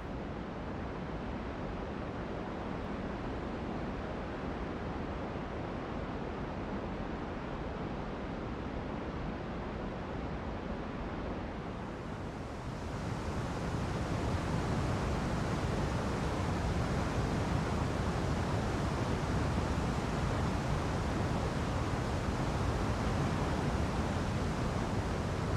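Roaring African waterfall at peak flow throwing up heavy spray, a dense, steady broadband rush that grows louder and fuller partway through, with no voices.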